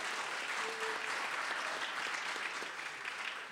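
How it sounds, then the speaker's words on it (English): College audience giving a round of applause for a faculty member, a dense, steady clatter of many hands that stays full and even before tapering at the close. "let's give Dave a round of applause"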